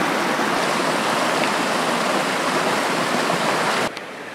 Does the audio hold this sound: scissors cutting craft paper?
no